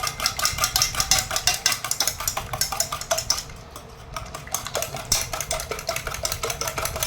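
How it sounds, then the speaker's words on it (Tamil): Electric beater whipping three eggs in a bowl until frothy for a homemade vanilla cake, a steady close whirring motor with rapid rattling clatter of beaters against the bowl, briefly easing off midway then resuming. "இதை வந்து நல்லா நுர வர அளவுக்கு நம்ம வந்து நல்லா அடித்து எடுத்துக்கலாம் ஃப்ரெண்ட்ஸ்."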